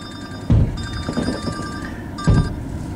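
A phone rings while a call connects over a car's Bluetooth during fireworks, with two loud ring bursts and tonal chirps sounding close and clear against a low rumble, and no talk.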